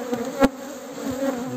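Honeybees buzz at an agitated hive, a close, steady droning hum with a sharp tap or knock partway through.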